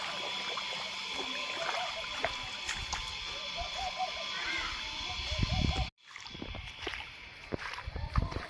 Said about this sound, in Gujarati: આ રસ્તામાં અત્યારે થોડું થોડું પાણી જાય છે